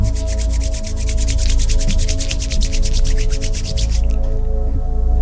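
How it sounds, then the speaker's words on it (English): Hands rub briskly together to warm them in fast, even strokes for about four seconds, then stop, over a soft sustained musical drone during a guided meditation. "you could rub your hands together until they're warm"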